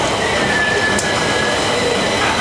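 A Stockholm metro train on the red line rolls along with a continuous rumble and rattle, a thin wheel squeal running over it, heard from close range with no talking.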